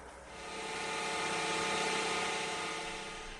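A wood lathe spins at a little over 2000 RPM with a steady, even whine and hum that swells slightly and holds without a break, fairly close and alone.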